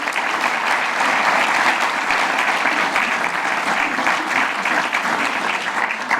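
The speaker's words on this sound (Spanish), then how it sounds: "quiero pedirle a él un nuevo fuerte aplauso" A forum audience gives a strong round of applause, a thick, sustained wash of many hands clapping at once that stays loud and even throughout.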